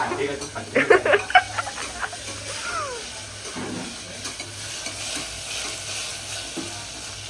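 Cooking oil sizzles and spatters in a pan in a home kitchen while khichadi is made, a soft steady frying hiss with a few sharper pops near the start and voices talking over it.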